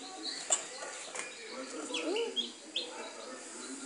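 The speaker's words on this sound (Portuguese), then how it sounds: "Sobe não, que o pintinho tá aí." Newly hatched chick inside a homemade incubator box, giving faint, high peeping chirps scattered over a rustling background, with people talking nearby.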